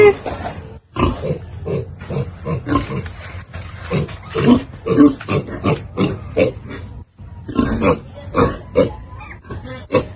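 A piglet in its pen at a provincial pig farm squeals and grunts in rapid, repeated bursts, close and loud, with brief pauses between calls.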